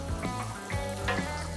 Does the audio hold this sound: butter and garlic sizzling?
yes